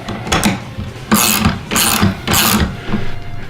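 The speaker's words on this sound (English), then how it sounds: "there's a ratchet that goes with it that matches up to the outside" Ratchet turning on a through socket slid over a long bolt, several quick clicking bursts in a steady rhythm, loud and close with no voices.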